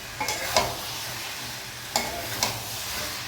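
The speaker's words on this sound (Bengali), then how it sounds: "এবার মশলাটাকে আমরা ভালো করে কষিয়ে নেব মাংসের সাথে।" Spice paste and chicken pieces sizzle steadily in a pan as they are sautéed, with a few soft scrapes and knocks from stirring rising briefly above the moderate frying hiss.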